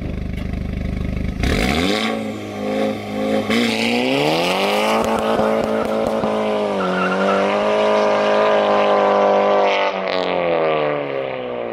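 A Volkswagen Golf GTI 240hp with an MG Motorsport race active valve exhaust roars and revs hard, its pitch climbing and holding in a sustained, raspy exhaust howl with brief crackles between pushes.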